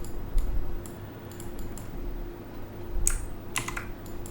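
Keystrokes on a computer keyboard while editing code in Visual Studio Code, sounding as short bursts of clicks in small clusters over a low steady hum.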